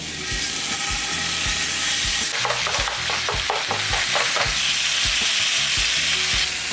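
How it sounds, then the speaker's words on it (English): Ground beef sizzling in a hot pan, a loud continuous crackle with rapid scraping strokes of a utensil stirring and breaking up the meat midway through. "You want to take your ground beef and you want to get that in a hot pan."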